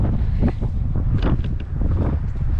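Strong headwind gusting across a hilly disc golf course, a steady low roar of wind buffeting the microphone throughout, with no talk.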